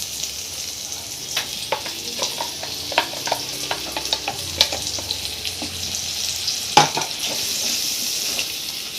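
Sliced onion fries in oil with grated fresh coconut, coriander seeds and tomato paste for a cauliflower curry, a loud continuous sizzle punctuated by frequent spatula scrapes and taps against the pan.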